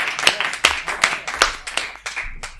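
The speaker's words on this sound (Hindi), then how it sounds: "भाई राधेश्याम भारती को आमंत्रित करिए, जोरदार तालियां बजाकर आमंत्रित करें।" Audience at a Hindi poetry recital clapping to welcome a poet on stage, a series of distinct, uneven claps about twice per second, fairly close and sparse rather than a full roar.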